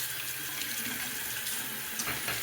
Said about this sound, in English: I'm putting cold water on